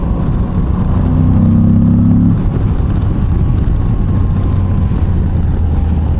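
Engine drone from a 2022 Moto Guzzi V85 TT Travel motorcycle being ridden, a loud, constant near roar with wind rush and a rising tone partway through, no voices.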